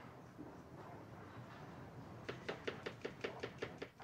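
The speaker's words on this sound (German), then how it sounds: "inzwischen schneiden wir die Zwiebeln" A knife chops red onion on a board in a steady run of about nine crisp, evenly spaced strokes, close by, after a couple of seconds of quiet room background.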